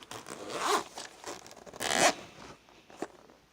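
A zipper on a two-tier pencil case is pulled open in several long rasping strokes, close and clear, with short pauses between the pulls and no talking.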